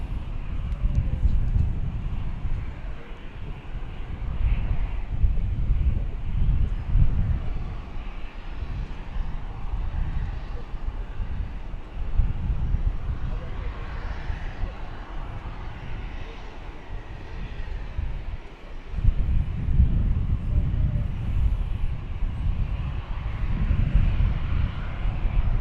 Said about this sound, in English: So here we are, this Delta flight, Delta A319.